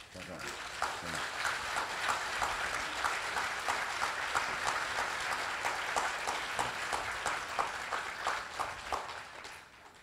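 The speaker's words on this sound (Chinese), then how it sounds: "大师都给你鼓掌" An audience of film masters applauds a young director at a new-director showcase, with sustained, even clapping that holds at a moderate level for about ten seconds before fading at the end.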